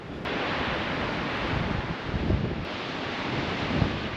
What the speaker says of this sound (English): It's just too windy up here.